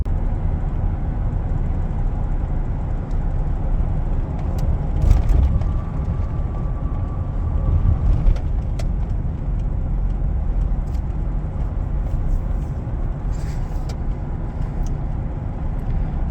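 A 2007-2014 GMC Sierra pickup truck drives along a short road, with a continuous low rumble of engine and tires from inside the cab and only slight swells in loudness.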